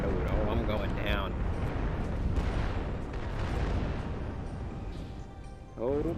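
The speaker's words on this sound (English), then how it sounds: "Oh no, I'm hearing explosions now." Heavy rumbling booms and blasts in a busy video game soundscape, with synthetic voice prompts and bursts of speech over the noise.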